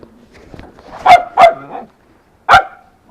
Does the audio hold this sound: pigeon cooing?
no